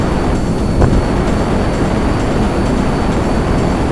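Large airplane flying in GTA 5 Online: a loud, continuous low engine rumble and roar fills the whole stretch, broad and steady with little change, with a brief sharp click near the start and no talk.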